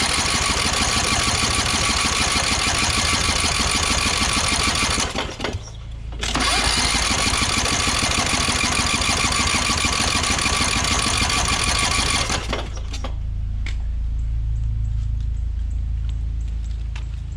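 An old riding lawn mower, left sitting for years, cranks with its engine manually choked, a loud steady starter whir that stops briefly, resumes, then cuts off into a low rumble and quieter ticking.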